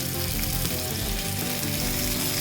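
Sardines fry in oil on a flat tawa, giving a loud, dense and steady sizzle that stays close and unbroken throughout, with no voices.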